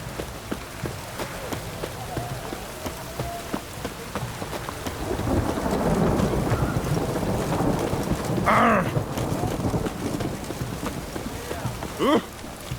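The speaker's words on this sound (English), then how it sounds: "It's raining." Heavy rain and thunder in the fantasy game The Witcher 3: Wild Hunt, a steady downpour with deep rolling rumbles that swells midway, with brief voices and other game sounds over the storm.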